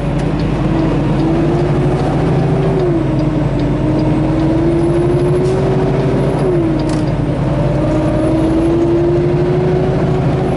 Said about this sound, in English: trucks are on that lane